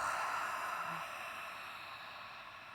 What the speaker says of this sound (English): Exhale through the mouth.